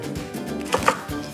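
A knife cuts tender young kale shoots into short lengths on a board, with a few distinct close chops standing out over a steady low background.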